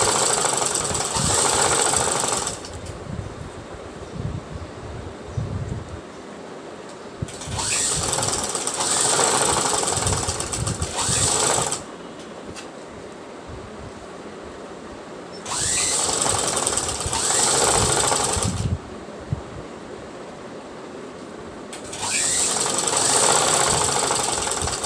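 Sewing machine stitching a strip onto a one-piece dress, running in several loud sustained bursts of whirring stitching separated by quieter pauses of handling.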